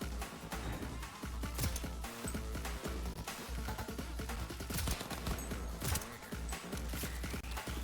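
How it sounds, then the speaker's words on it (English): Rapid close pistol gunshots in Cyberpunk 2077 Phantom Liberty combat, a fast irregular string of sharp cracks amid game noise, with someone speaking at times. "Take one more hit from the pistol."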